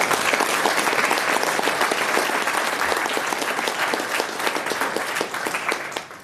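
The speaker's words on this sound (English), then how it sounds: "Round of applause, please." A large crowd applauds steadily throughout, dense clapping that stays loud and even before tapering slightly at the end.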